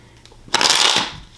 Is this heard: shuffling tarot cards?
yes